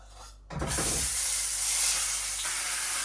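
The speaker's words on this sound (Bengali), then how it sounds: "এখন এই যে মাছটি ভেজে দিই" Fish frying in oil in a pan: after a brief quiet moment, a loud, bright hissing sizzle bursts in and holds steady and close to the end.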